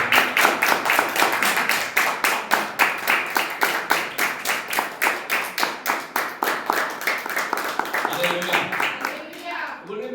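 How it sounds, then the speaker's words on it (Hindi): A church congregation claps in unison to praise God during a sermon, a loud, steady beat of hand claps that keeps going for several seconds before a voice starts speaking near the end. "ताली बजा के हम प्रभु को"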